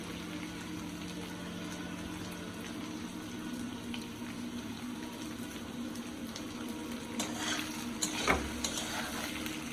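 Large pieces of homemade paneer frying in a pan, a soft continuous sizzle with occasional stirring clatter near the end, faint and alone.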